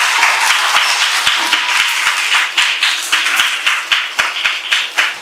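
Children clapping at a Kerala school's Praveshanolsavam entrance celebration, starting as a loose scattered patter, then settling into slower, evenly spaced rhythmic claps in unison, close and fairly loud.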